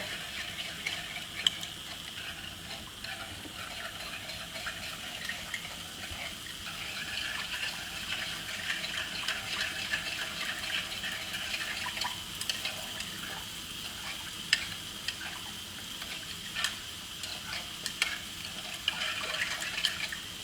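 Water poured into a pot with white miso paste and chicken bouillon paste for miso soup, a steady hissing splash running the whole time with small clinks, moderately close.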